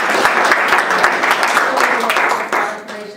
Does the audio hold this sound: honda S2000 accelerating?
no